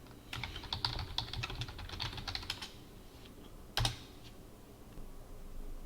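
Typing a name on a computer keyboard, a quick burst of close, crisp key clicks for about two seconds, then quiet with one louder click a little later.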